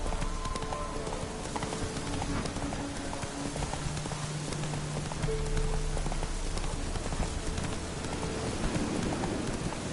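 The horse Roach gallops in The Witcher video game, with a continuous, even beat of hooves against a steady wash of rain and faint ambient tones.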